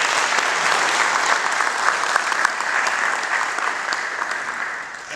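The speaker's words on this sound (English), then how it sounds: "A big round of applause for all of you." Loud, sustained applause from a large crowd, steady clapping filling the whole stretch without a break.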